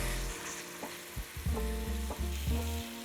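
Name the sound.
marinated pork frying in sesame oil in a pan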